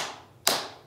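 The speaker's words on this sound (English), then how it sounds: "So we get those two claps in the beginning." A single sharp hand clap, like a clap in the Bingo children's song, sounds near and alone against a quiet background.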